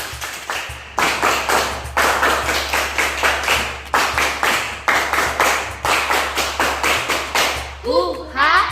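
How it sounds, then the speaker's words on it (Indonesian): A classroom of pupils performs the Pramuka scout clap pattern, loud rhythmic group claps in repeated bursts with short pauses, followed by a brief rising voice at the end. "I want that all of you 2 kali tepuk pramuka"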